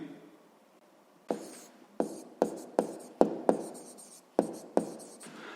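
Strokes of writing as a sixth-grade math exercise is worked out: about nine crisp, separate scratches and taps in an uneven rhythm, close and clear over a quiet room.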